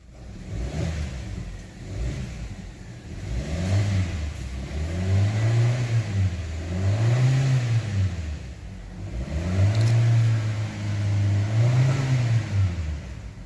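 A new Jeacoo J7 car with low power and its engine light on starts up, then its engine is revved in several repeated rising and falling swells, close and fairly loud.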